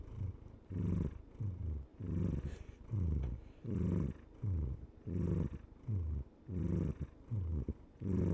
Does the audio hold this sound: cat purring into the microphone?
yes